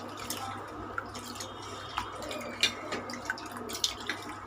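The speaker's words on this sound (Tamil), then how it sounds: "இது நல்லா 3 வாட்டி நல்லா அலசிட்டு இந்த மாதிரி எப்போவுமே அரிசி இந்த மாதிரி கழுவணுங்க" Rice rinsed by hand in a bowl of water for adai batter, soft sloshing and dripping with small irregular splashes, fairly quiet and close, without speech.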